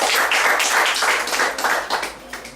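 Applause for a graduate at a CSEC graduation ceremony, brisk close clapping with distinct hand strikes, loud and short, easing off toward the end.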